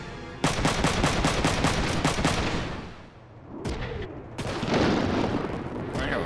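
Rapid machine gun fire in the mech strategy game Front Mission 3 rattles out as a fast, even string of loud shots. After a short lull, heavier booming impacts and a burst of blasts follow.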